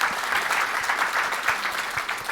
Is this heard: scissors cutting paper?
no